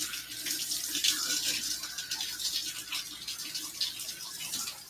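Steady running water from a tap splashes continuously while a Goldendoodle is being rinsed, a broad hissing wash close by with fluctuating splashes and no clear talk.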